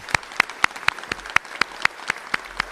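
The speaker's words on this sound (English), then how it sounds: "let's give them a big round of applause" A round of applause at a graduate school hooding ceremony, sharp individual claps at a steady, fairly even rhythm, as if from a small group, heard alone without voices.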